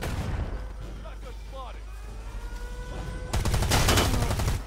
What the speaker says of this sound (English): Watch out, shotgun!